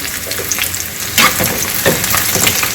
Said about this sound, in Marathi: याच्यामध्ये आता आपण लाल मिरची टाकून द्यायची आहे